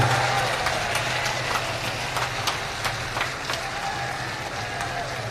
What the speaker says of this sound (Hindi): जोरदार ताली बजा करके माननीय बहन जी का स्वागत करने का काम करें।